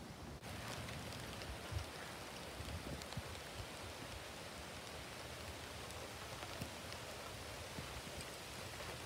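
Rain falling outdoors on a garden with grass and young trees: a dense, even hiss of steady rainfall with scattered drops pattering nearby, fairly soft and with no voices.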